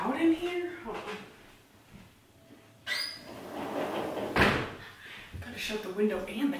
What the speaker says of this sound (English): Gotta shut the window and the door.